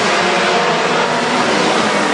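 WISSOTA modified race cars roar past the grandstand at Granite City Speedway, a loud, dense wall of engine noise holding steady and close for a couple of seconds, with no voices over it.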